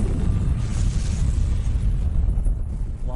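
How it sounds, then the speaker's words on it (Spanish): A volcano erupting with an explosion: a deep, continuous rumbling roar with a heavy low-end blast that holds steady for about three seconds, with no talk. "La lava sale a la superficie y entra en erupción con una explosión."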